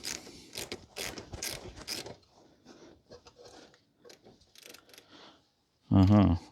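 Socket wrench ratcheting on a heavy-duty hitch nut on a farm: a series of quick metallic clicks and clatters in uneven bursts, close and moderately loud, ending in a brief louder grinding burst.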